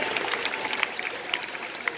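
A live audience at a dog show at the CNE applauds steadily, a dense wash of clapping hands that stays loud and even for the whole moment without any talking.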